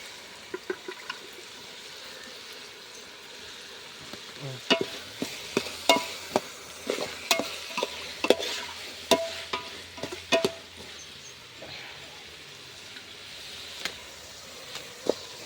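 Chicken legs cooking in a pan with softened tomatoes make a quiet, steady sizzle, broken by a string of sharp clacks and scrapes from stirring or turning the pieces, close up with no talking.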